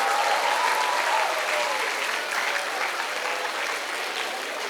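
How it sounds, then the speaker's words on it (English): At a music festival, an audience applauds loudly and continuously, a thick wash of clapping that fades slightly toward the end. "above all, let's give a big round of applause to Amit sir, Vipul sir."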